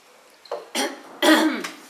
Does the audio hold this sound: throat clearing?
yes